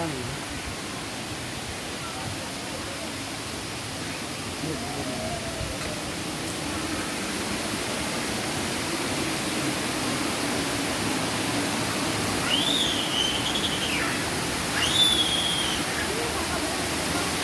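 Water pours steadily at Wang Kan Lueang waterfall, a constant broadband rush heard from a short distance, faint birdlike chirps briefly rising above it.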